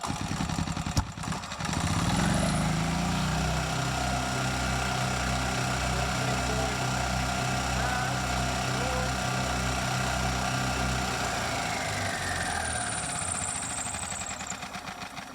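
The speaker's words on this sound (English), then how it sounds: "All right, let's bring engine RPMs up." A small golf cart gas engine revs up and holds at a steady, loud drone, with a brief clatter near the start.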